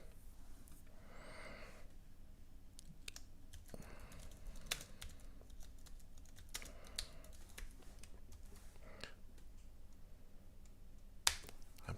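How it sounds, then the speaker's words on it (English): A computer keyboard clatters as a message is typed, with irregular bursts of quiet key clicks, a few sharper louder taps, and faint breathing in the background. "I'm going to try to type a message and see if it ends up in both."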